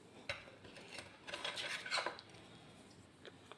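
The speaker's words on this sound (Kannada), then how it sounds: "ಈ ಸ್ಪೂನ್ ವೈಟ್ ಮೆಟಲಲ್ಲಿ ಹಿಂಗೆ ಬರುತ್ತೆ" A white metal (German silver) cup and spoon with flower designs being handled, producing a few light metallic clinks and rubbing scrapes, faint and close, with no voices.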